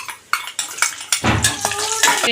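Cashews and raisins frying in a pan, with a series of sharp metallic clinks and scrapes of a utensil against the pan giving way to a soft sizzle.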